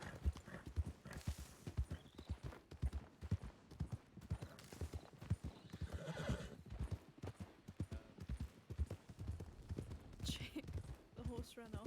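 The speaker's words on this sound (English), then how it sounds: "The horse ran off." Rapid hoofbeats of a horse galloping away in a video game clatter in a steady rhythm, with the horse whinnying, and voices talking over the hooves.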